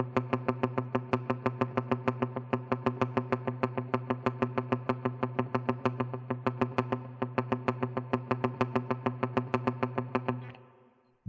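Clean electric guitar set to a Line 6 Helix tone, strummed in a steady, even 16th-note rhythm with echo trailing behind, heard alone and close for about ten seconds before stopping abruptly.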